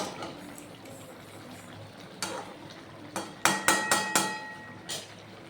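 Chicken and onions stir-fried in a pot, a few clattering knocks of a spoon against the metal coming in a quick cluster over a low background hiss.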